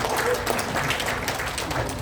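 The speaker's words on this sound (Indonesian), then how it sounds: "Boleh tepuk tangan buat saya" An audience at an evangelistic revival meeting in Malang gives a short burst of clapping, fairly soft and continuous, with a voice faintly mixed in.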